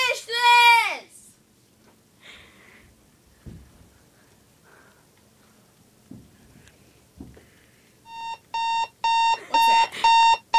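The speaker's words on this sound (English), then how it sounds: "Is that the fire alarm?" An alarm rings near the end, loud repeated electronic beeps in an even pulsing rhythm, coming after excited shouting and scattered bumps and talk from several people earlier on.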